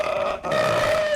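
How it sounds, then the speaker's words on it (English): A deep, drawn-out burp from a player in the horror game Outlast Trials rumbles continuously for about a second, loud and close, with no talking. "did you just burp in my ear"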